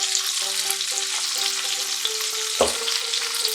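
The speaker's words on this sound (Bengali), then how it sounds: "ঢাকা দিয়ে ফুলকপিগুলো আমি একটু ভালো করে কষে নেব" Cauliflower florets frying in oil for a duck egg curry, a close steady sizzle with small utensil taps and one louder knock partway through.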